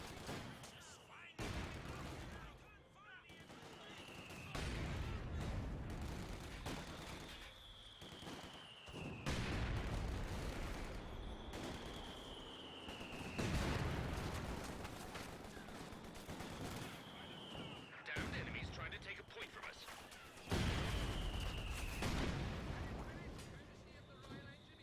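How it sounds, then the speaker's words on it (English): Battle sounds from Company of Heroes 2, with a captured mortar and gunfire: repeated descending shell whistles, each ending in a booming impact, amid dense rattling gunfire, while a commentator talks over the action. "the captured mortar is actually doing quite a bit of damage to the pack"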